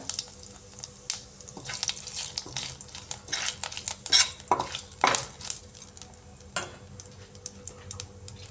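Five-spice seeds and two or three bay leaves temper in a spoonful of hot oil, a light sizzle broken by repeated metal spoon scrapes and clinks against the pan, close and irregular, no talk.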